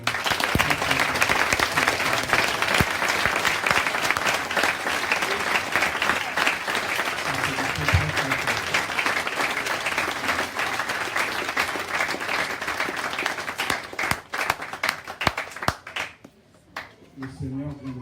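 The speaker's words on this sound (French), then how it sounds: "Je demande à tout le monde d'applaudir encore plus fort." A church congregation gives loud, sustained applause that goes on for many seconds and dense rapid clapping that thins out and stops near the end.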